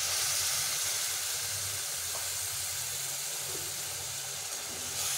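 Water hits a hot pan of cooking ridge gourd and sets off a steady, loud hiss of steam and sizzling that keeps going without a break.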